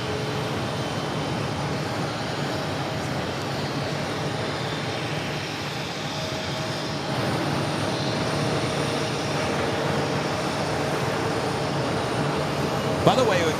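Airbus A319 jet, originally delivered to US Airways, at Phoenix Sky Harbor airport, producing a steady broadband roar that swells slightly toward the end, with voices talking over it.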